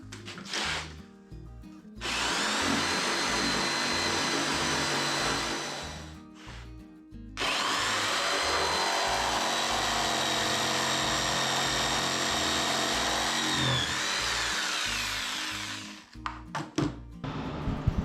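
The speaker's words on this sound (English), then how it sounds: "So we're going to cut this notch out." A power tool cuts a notch in a wooden board while an electrical panel is being hidden, with two loud sustained whining cuts, a short one then a longer pass, separated by a brief pause and ending in clattering handling.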